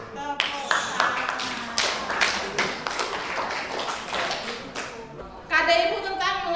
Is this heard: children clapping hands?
yes